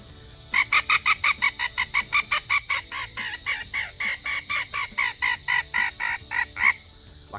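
A rapid series of about twenty-five short, raspy squawks in an even rhythm, loud and close, imitating a distressed bird on a non-bellowed predator hand call, made by fluttering the tongue while exhaling.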